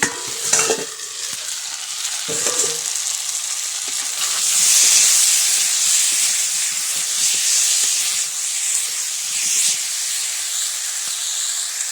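Water poured into a hot pan of fish roe curry, giving a loud, continuous steamy hiss and sizzle that swells and holds for several seconds before settling to a steady bubbling fizz.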